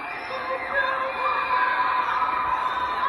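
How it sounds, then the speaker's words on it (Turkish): Crowd of people shouting and calling out from apartment windows in Shanghai, a continuous distant mass of overlapping voices and cries echoing between buildings, steady and fairly loud throughout. "İnsanlar apartmanlardan artık bağırmaya başladılar."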